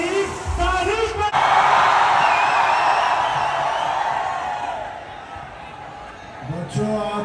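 An audience breaks into loud applause and cheering, a dense sustained roar lasting about five seconds, framed by brief voices before and after.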